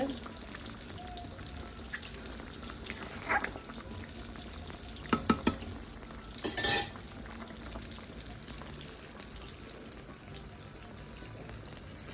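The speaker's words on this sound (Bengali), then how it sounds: "পাশে ঝিঙ্গা চিংড়ি মাছ রান্না হচ্ছে" Ridge gourd and shrimp cook in a pan, a faint steady sizzle broken by a few brief clinks and scrapes of utensils, with someone talking in the background.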